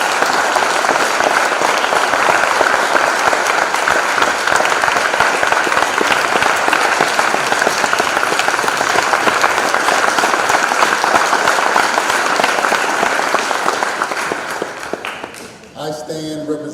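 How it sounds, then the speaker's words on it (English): Sustained audience applause fills an event hall, dense and loud clapping running steadily for about fifteen seconds before fading, with a voice starting to speak at the end. "let's give him a round of applause"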